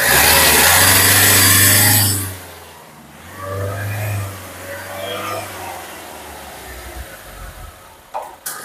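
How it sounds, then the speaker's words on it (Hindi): A Hyundai Creta engine revs loudly for a couple of seconds after DPF cleaning, drops off, then revs again more softly before idling down, with a clunk near the end. "थोड़ा एक बार और रेस देना भाई।"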